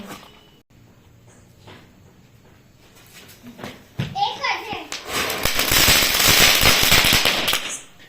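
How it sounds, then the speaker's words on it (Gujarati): Firecrackers burst near a home celebration, starting sparse and then building into a loud, dense crackling barrage of rapid pops over the final seconds, with children's voices audible in the background. "આપણે ફોડી રહ્યા ફટાકડા"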